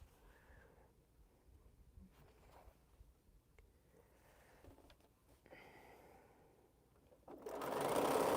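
A sewing machine stitches quilt pieces for a Scattered Stars quilt, running steadily and fairly quietly up close before a louder, denser burst of stitching takes over at the end.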